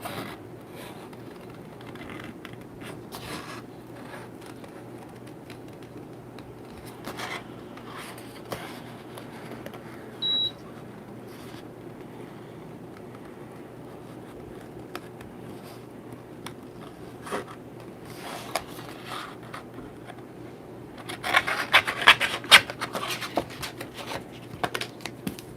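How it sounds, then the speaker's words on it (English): Scissors snip paper during fussy cutting, a steady run of soft, close snips and rustles, growing louder and denser toward the end. "we will fussy cut this."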